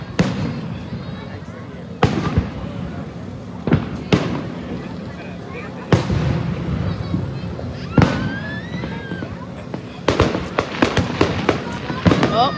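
Fourth of July fireworks boom one after another at irregular intervals, sharp loud bursts with crackling trails, while people chatter faintly in between.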